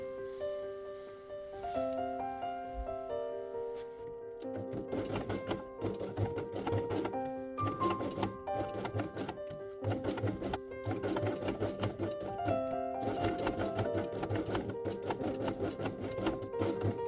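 A sewing machine stitches fabric sensory pieces along the inside edge of a handmade Easter chick quiet book page, with rapid bursts of needle clatter under steady melodic background music.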